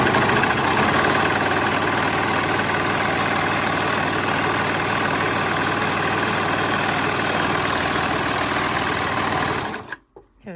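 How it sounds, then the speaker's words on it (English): A sewing machine runs continuously on a zigzag stitch, sewing a stretchy baby turban headwrap, loud and close with a steady whirring drive before stopping abruptly near the end. "Okay, so anyway, you're going to sew it all the way down"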